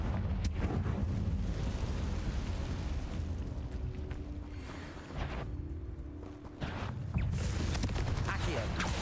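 A Confringo blasting spell in Hogwarts Legacy erupts in a loud, dense rumbling explosion that fills the scene, with crackling debris and a brief lull before the noise surges again; a voice speaks over it.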